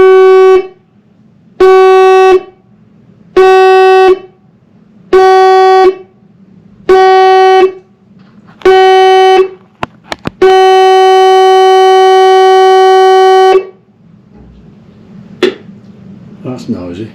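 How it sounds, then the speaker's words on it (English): A ship's general alarm test aboard a Hurtigruten coastal ship sounds loudly: six short, evenly spaced blasts followed by one long sustained blast, then quiet background hum. "in a couple of moments you will hear the ship's general alarm"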